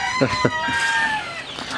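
Several broody hens clucking and calling close by in a coop, overlapping short clucks with a higher drawn-out call in the background.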